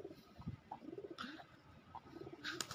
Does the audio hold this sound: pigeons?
yes